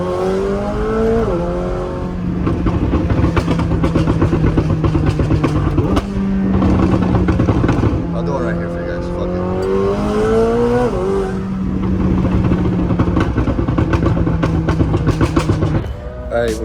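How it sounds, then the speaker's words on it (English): A Lamborghini sports car engine revs loudly and climbs through several gears, with sharp crackling exhaust pops between the surges. "Hear the pops, so this thing sounds insane."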